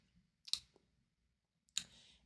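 Two quiet computer mouse clicks, spaced about a second apart, in a software setup session for a GoHighLevel logo template, each a short sharp tick heard alone against near silence.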